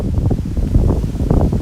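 Strong cold wind buffets the microphone outdoors among plum blossoms in Japan, a loud, low, gusting rumble that surges and dips without a break and drowns out any other sound.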